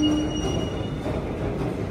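A goods train rolls slowly at a station platform, its wheels squealing on the rails with a steady close metallic drone and brief high tones, no talk.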